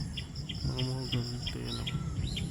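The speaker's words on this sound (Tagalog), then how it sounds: "Meron mga kumakanta ng ibon." Birds sing on a farm among mahogany trees, with high chirps repeating over a steady insect drone while someone talks nearby.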